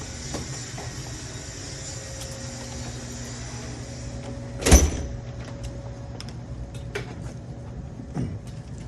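Door being opened during a walk-through, a brief sharp clunk and rattle over a steady low hum, with a softer knock a few seconds later and no speech.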